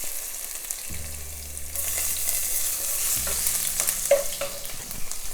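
Garlic hits a hot pan of oil while an eggplant and potato curry is being cooked, bringing up a broad, steady sizzle close by, along with stirring and a few light clinks of a utensil, and a low hum underneath.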